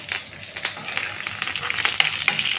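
Fenugreek seeds frying in hot oil in a pan for a chicken and potato curry, a close, continuous sizzle with scattered crackles and pops and no voice.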